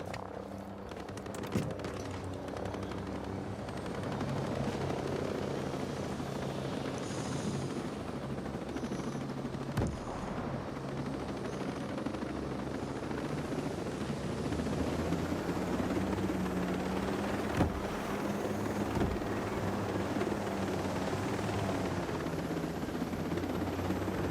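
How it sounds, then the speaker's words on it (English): An enemy helicopter takes off in the video game Ghost Recon Breakpoint, a steady droning rotor hum that fills the scene, with sporadic sharp cracks of gunfire cutting through. "Chopper took off."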